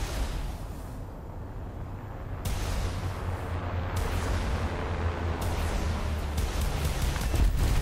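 Alpha Jet aircraft rockets strafing ground targets in War Thunder, heard as a dense continuous roar of engine and rapid firing, with sharp bursts of launches and impacts that build louder toward the end.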